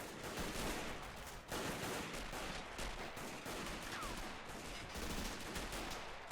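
Soviet PPSh submachine gun fire in a large World War II bridge battle video game, heard as dense, continuous automatic bursts mixed with other distant gunfire. The shooting is steady and harsh throughout, with no speech.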